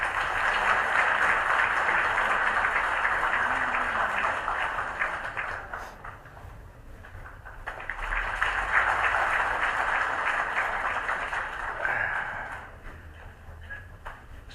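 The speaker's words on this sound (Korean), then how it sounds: "여러분 박수로 환영해 주십시오." A crowd at a political talk concert welcomes the leader of the Liberty Korea Party with sustained applause, which dips briefly and then swells again into a second long burst, dense and moderately loud.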